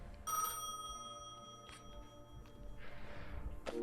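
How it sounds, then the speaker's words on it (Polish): A telephone in a video game rings once with a bright, bell-like trill, followed by quieter thumps and a soft rushing sound in the game. "Dobra, idziemy ten telefon odebrać."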